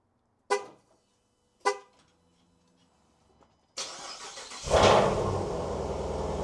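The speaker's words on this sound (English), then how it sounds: "y'all want me to give y'all a cold start with the Hellcat?" A Dodge Hellcat V8 cold start after sitting two to three days: two short clicks and a faint whir, then the engine catches with a loud roar that swells and settles into a steady, rumbling idle.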